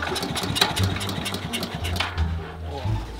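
A motorcycle engine idles steadily with a low, even throb close by, with faint background noise around it.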